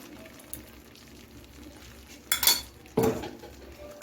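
Tomato paste going into a pan of sautéed spices for methi malai paneer, a few clattering knocks of a spoon against the pan over a faint low simmer.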